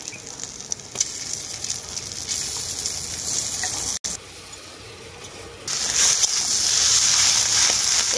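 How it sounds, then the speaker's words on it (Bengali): Grated potato tipped into a pan of lightly fried onion and green chilli, a steady close sizzle of frying that briefly cuts out, then returns louder and brighter for the rest. "এখন এর মধ্যে দিয়ে দেবো গ্রেট করা আলু।"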